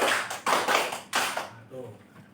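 Five sharp hand claps in a rhythmic classroom clapping routine, close and crisp, ending in a brief murmur of voices.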